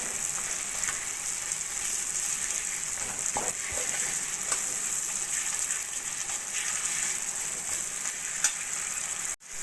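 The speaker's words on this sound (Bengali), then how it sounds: "টমেটোটা ভালো করে মশলার সঙ্গে কষিয়ে নিয়েছি" Sliced tomato sautés with potatoes and spices in a pan for a tangra fish curry, holding a steady bright sizzle with scattered stirring scrapes and small spoon taps throughout.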